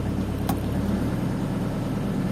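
An XCMG XE60DA Plus excavator with push-button start: a brief click, then the diesel engine settles into a steady, low, rumbling idle that holds close and even.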